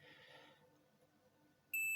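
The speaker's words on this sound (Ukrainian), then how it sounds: "Вихідний діод пищить." High-pitched electronic squeal from a faulty output diode in the soft-start circuit of a PowMr VM5K-III inverter, a steady whine cutting in abruptly near the end after quiet hum.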